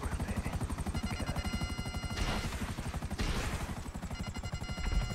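Buzzard attack helicopter in the GTA video game, its rotor chopping in a fast, even pulse at close range, with a louder whooshing swell partway through and no speech.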